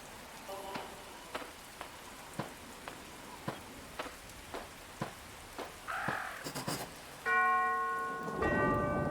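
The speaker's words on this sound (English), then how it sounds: "I'd better ring the bell." A bell rung at a mansion in the Arkham Horror video game, a deep tolling tone with ringing overtones that sustains near the end, following a long series of evenly spaced sharp taps and a brief rustling rush, no voices.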